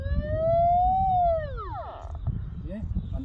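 A Golden Mask Deep Hunter metal detector sounds a loud, clear electronic tone over a buried target, sliding up then sweeping down, followed by a few fainter chirps, with a voice talking underneath.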